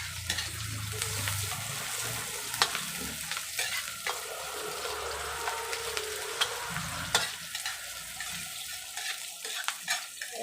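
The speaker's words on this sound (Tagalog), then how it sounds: "Siyempre palulutuin muna natin yung sibuyas natin bago natin ilagay itong karne natin." Onions sauté in a pan before meat goes in for chop suey, a steady sizzle and fry with repeated scraping and stirring clinks of a utensil against the pan, up close and with no talking.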